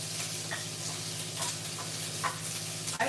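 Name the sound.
onions sizzling in bacon grease in a pan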